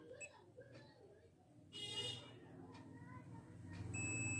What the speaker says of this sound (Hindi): ये देखिए यहाँ बीप आ रहा है